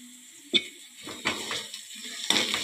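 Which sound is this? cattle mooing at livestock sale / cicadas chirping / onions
onions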